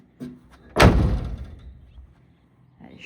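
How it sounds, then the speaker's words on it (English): Back door of a classic Pontiac swung shut with one solid, loud slam after a faint earlier knock, the thud ringing out and fading, with a small click near the end. "So I'm just gonna go ahead and shut this back door right here. All the doors shut really nice."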